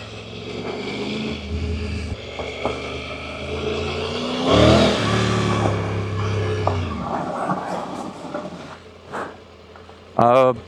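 A Triumph Tiger 900 Rally Pro motorcycle engine revs and pulls under load with the rear wheel spinning off-road, rising and falling in pitch for several seconds with wind rush, while a rider talks over it intermittently.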